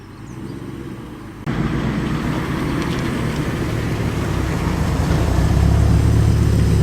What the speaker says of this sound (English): Great sounding V8 burbling away there.